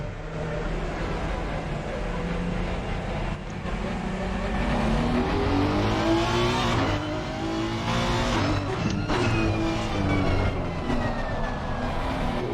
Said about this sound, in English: Just wait till these cars past.